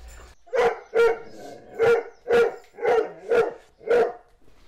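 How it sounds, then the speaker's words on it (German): Repeated loud barks from a dog at a dog daycare, about seven sharp barks in a steady rhythm, close by, with no talk over them. "wenn jetzt der nächste Hund reinkommt"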